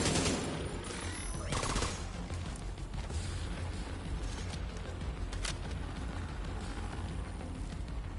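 An AK rifle fires in a video game, with dense, loud gunfire crackling continuously through the stretch and a strong burst near the start.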